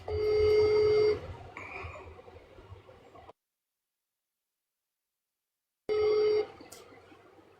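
Telephone call being placed: a short burst of dial tones and a ringback tone, then silence, then another brief tone, faint and somewhat muffled.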